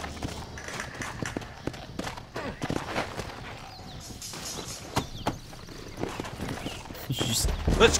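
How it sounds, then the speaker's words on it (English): Horses clip-clop along in the Western video game Red Dead Redemption, a steady run of hoofbeats at moderate distance with sharper louder strikes scattered through, and a rising rumble toward the end. "Looks like Carlos left us some horses."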